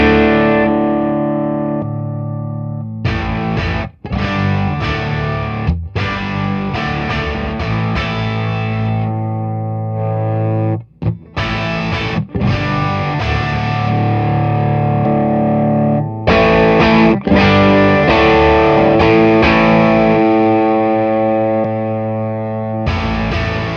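Telecaster electric guitar played on the neck pickup through an overdrive pedal, a loud sustained distorted tone with strummed chords and held notes, played continuously with a few brief stops.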